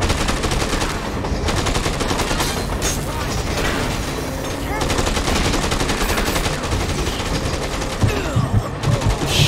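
Sustained assault rifle fire from a Merc rifle in the Dead Rising 2: Off the Record video game, dense rattling bursts that run almost continuously throughout, loud and close, with game noise layered underneath.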